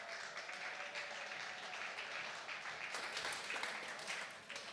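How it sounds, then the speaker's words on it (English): Applause from an audience at the Monaco Energy Boat Challenge 2021 tech talks, a sustained bout of clapping for nearly five seconds at moderate distance in a hall, with no talk over it. "and your applause"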